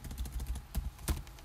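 Brief, quiet run of keystrokes on a computer keyboard, a quick irregular patter of close clicks with a couple of louder taps near the end, and no talk.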